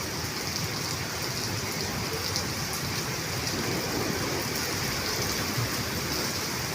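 Heavy rain pours down steadily, a dense continuous hiss of drops hitting surfaces with no pauses.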